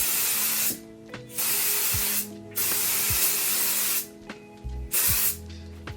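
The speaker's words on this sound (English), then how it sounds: "Literally feels like I'm putting hairspray on my face because of the aerosol can." An aerosol can of setting spray is misted onto a face in several bursts of close, loud hiss, each lasting about a second and separated by short pauses with faint clicks.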